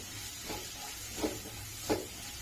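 Soft steady sizzle of food sautéing in a pan with garam masala and black pepper, with two gentle scraping stirs of a spoon, quiet and without talk.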